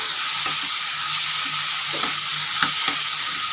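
Tomatoes, green chilies and sweet potatoes frying in a pan, giving a steady close sizzle with a few sharp stirring clinks and scrapes at irregular intervals, with no talk.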